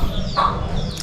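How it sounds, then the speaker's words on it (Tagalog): A black pet hen, a female chicken close to laying, gives one short, close cluck with no voices. "yung alaga niyang manok"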